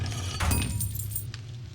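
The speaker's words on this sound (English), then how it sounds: "And that noise is 1 iron ingot." Iron ingot being cast in an ingot mold in 7 Days to Die gives a short bright metallic clink and jangle, ringing briefly over a low hum before fading out.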